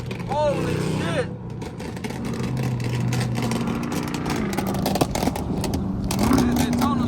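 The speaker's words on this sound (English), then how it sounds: "That Daytona's so goddamn loud," A loud Dodge Charger Daytona engine roars while driving on a Miami road, a steady heavy drone with rising revs, passing nearby under constant traffic noise while people talk excitedly over it.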